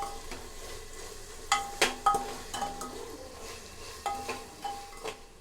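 Vegetables for pulao sautéed in a pressure cooker over a medium flame, with sizzling under a series of sharp metallic clinks and scrapes from a spoon, about eight hits, close and moderate in level.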